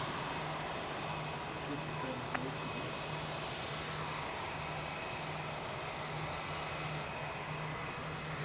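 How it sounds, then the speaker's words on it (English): A Boeing Dreamliner jet taxis at Melbourne International Airport, a steady, distant engine roar under broadband noise that holds level throughout with no change in loudness. "Dreamliner taxiing out now as well."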